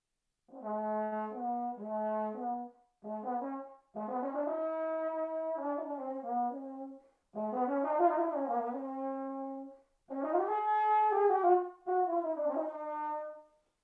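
A trombone plays a series of sustained, brassy phrases whose notes step upward through the harmonics as the slide moves out. The separate bursts are clear and close, with brief gaps between them and no talking.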